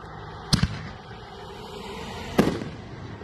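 Two sharp firework artillery shell bursts, each a loud crack with a short crackling tail, spaced about two seconds apart against a faint outdoor background.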